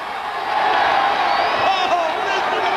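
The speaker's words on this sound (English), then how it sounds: "Oh, listen to this crowd." A dense, loud roar of a wrestling arena crowd cheering as Curt Hennig arrives at an NWA TNA event, sustained and swelling with scattered whoops, an unbroken wall of crowd noise.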